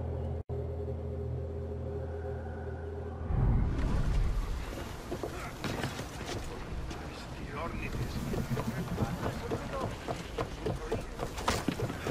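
A sailing ship gets under way at sea in Assassin's Creed Odyssey. After a calm opening, loud rushing wind and churning water swell in and continue steadily, with a voice heard alongside.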